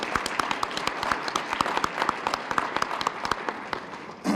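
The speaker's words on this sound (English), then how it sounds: "Let's give them a round of applause." An audience applauds at a chamber of commerce annual meeting, a dense, steady clapping that carries through the whole stretch and ends abruptly.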